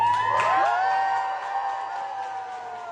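A packed crowd erupting as Trump enters, loud sustained cheering and whooping that swells then slowly tapers, with no talk over it.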